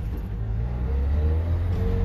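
A car with a grindy clutch pulls away, its engine droning low and building steadily over a couple of seconds, close and without talk.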